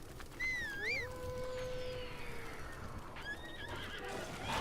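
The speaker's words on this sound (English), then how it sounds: "Come on, horse." A horse whinnies loudly in a rising and falling call over a steady background, with faint hoof clip-clop, in the video game The Legend of Zelda: Breath of the Wild.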